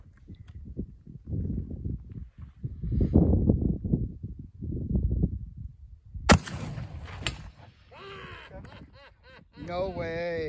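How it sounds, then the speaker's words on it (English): A single sharp, loud report from a 50-70 Trapdoor Springfield rifle firing a black powder round outdoors, preceded by people talking and followed by echoing ring and more voices. "And now we'll try some black powder rounds at it."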